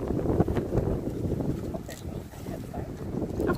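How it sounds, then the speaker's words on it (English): Strong wind buffets the microphone outdoors at a picnic, giving a continuous low rumble with gusty swells and no clear speech. "it's a very windy day."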